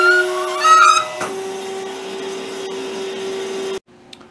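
A Doyon D20 hydraulic dough divider running its plate upward and then reversing, a steady motor hum with a whine and brief beeping tones at the start, ending with a clunk as it cuts off.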